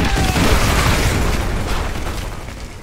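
Artillery strike explosions in Call of Duty Modern Warfare 2, a loud rumbling blast with heavy low booms and debris that slowly fade over a few seconds.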